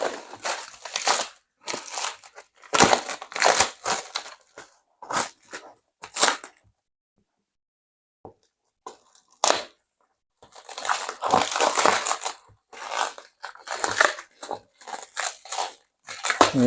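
Scissors cut open a package containing a folding sickle, giving crisp snipping and crinkling of plastic wrapping in irregular clusters, close and fairly loud, with a brief quiet pause midway.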